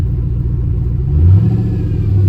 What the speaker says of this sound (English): Definitely rev it up faster than what it was.